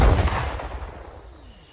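A single heavy artillery shot booms from a tank in a video game, a loud close blast with a deep rumbling tail that fades out over about a second and a half.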